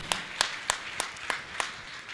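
Slow, evenly spaced claps ring out, about seven sharp hand claps in two seconds, close and distinct rather than a full crowd, at a Jain monk's religious gathering.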